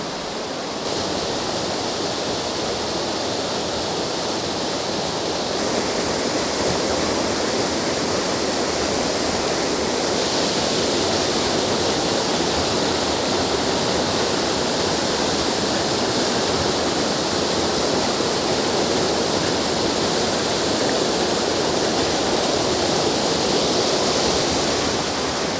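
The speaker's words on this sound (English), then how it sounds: "So that's just a quick look at the waterfall at Clough in Rivington" Tiger's Clough waterfall on the River Douglas at Rivington pours in a steady, loud, broadband roar of rushing water, continuous and unchanging, with no voices.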